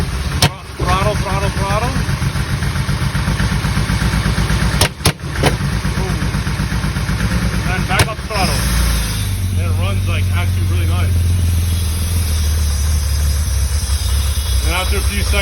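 A 1973 Porsche 911 engine, an air-cooled flat-six, runs close and loud, its idle broken by brief throttle blips and sharp clicks before settling back to a lower, rumbling idle, with someone talking over it.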